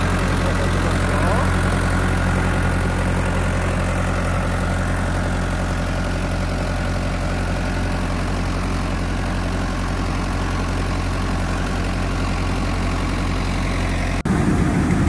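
A KIORITZ 6,000-litre crop sprayer runs in a wheat field, its engine holding a steady loud low drone with broadband spray hiss throughout, until the sound cuts off abruptly near the end.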